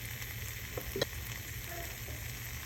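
Pork sizzling fat side down in an oiled pan over medium heat, a steady soft hiss of frying with a couple of faint clinks near the start, fairly quiet and with no voices.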